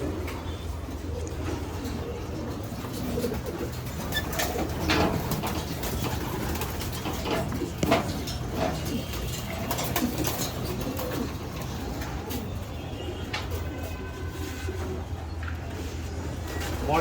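Long-distance racing pigeons coo softly and repeatedly against a steady low rumble of background noise, with occasional faint chirps and scattered sounds.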